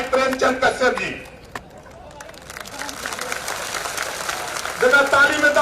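A rally crowd claps to welcome a speaker, a burst of applause under a loud voice on a PA, fading to a murmur and then rising again as clapping resumes.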